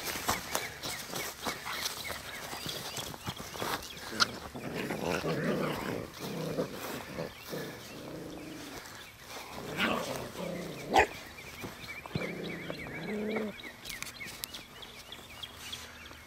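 Four young female puppies from a freshly whelped litter play together, giving repeated growls and yips at close range over shuffling movement and a few sharp knocks.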